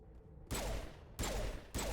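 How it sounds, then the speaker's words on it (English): A pistol firing explosive rounds in the video game Mass Effect, three heavy booming shots spaced about half a second apart, loud and close, each with a short rumbling tail. "let me try the explosive rounds first, see if I like them in my pistol"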